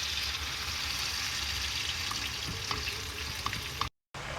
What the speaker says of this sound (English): So now you add the freshly chopped ripe tomatoes to the onion, chili, garlic mixture